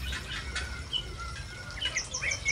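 A black-naped oriole (golden oriole) in a semi-natural aviary gives a few faint, high, clipped whistles and chirps late in the phrase over steady low background noise.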